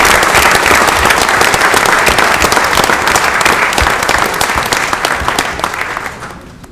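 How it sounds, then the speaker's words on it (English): A council meeting crowd gives a loud, sustained round of applause, dense clapping throughout that tapers off toward the end. "I'd like to give a big round of applause for Councilwoman Michelle Yamakaitis"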